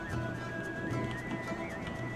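Cavalry horses in the Total War: Attila battle game, a continuous dense din of hooves and neighs mixed into a loud battlefield roar, steady and busy throughout with no speech.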